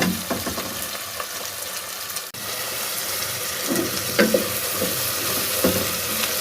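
Chopped tomatoes and masala fry in hot oil in a pan, giving a steady, loud sizzle with scraping stirs and short spatter bursts throughout, with no talking.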